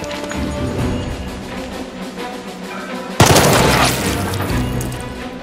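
Gunfire in the tactical video game Jagged Alliance 3, a loud sudden burst of shots and booms cutting in mid-way over a low droning game backdrop, with a rattling echo that decays into the background.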